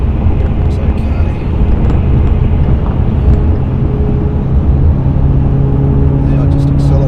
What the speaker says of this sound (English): Now I just accelerate nice and smoothly in 6th gear.